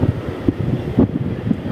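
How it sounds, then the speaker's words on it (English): Wind buffets a microphone at an airport where a United Boeing 757 has just landed, a steady low rumble with gusty swells. "as the wind picks up"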